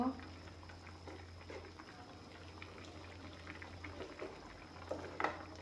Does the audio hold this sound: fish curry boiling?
yes